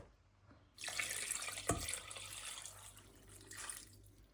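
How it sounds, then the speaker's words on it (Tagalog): Water pours steadily into a pot for bone broth, a rushing splash that starts abruptly and continues, fairly close. "Lalagyan ko lang siya ng tubig."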